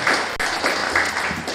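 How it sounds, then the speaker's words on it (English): Applause from an audience at a women's and gender rights consultation meeting, a dense, steady wash of clapping that fills the short clip at moderate loudness with no talk over it. "Give her a big round of applause"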